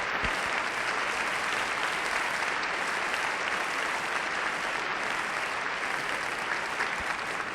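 Orchestral concert audience at the Academy of Music applauding oboist John de Lancie with the Philadelphia Orchestra under Eugene Ormandy, a dense, even wash of clapping sustained throughout, distant and steady with no talking.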